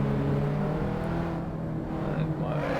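Alfa Romeo race car in the Assetto Corsa sim, its engine holding a steady, sustained drone with a slight rise in pitch, continuous throughout over a background of talk.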